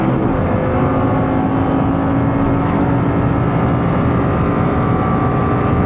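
A car runs at full throttle through the Klostertal section of the Nordschleife, its engine roaring loud and constant from inside the cabin with a strong low rumble throughout.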